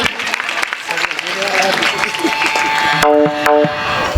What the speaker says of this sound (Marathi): टाळी होती